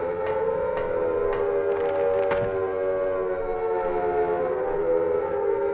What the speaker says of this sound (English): Air siren victory noise.